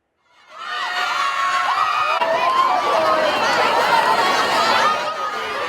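High school students at SMA Al-Azhar in Medan, Indonesia, shrieking and cheering as a DJ arrives, a loud crowd roar that swells in quickly and holds with overlapping high-pitched screams and chatter.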